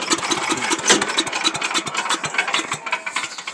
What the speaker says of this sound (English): I said the motor's being a little stubborn.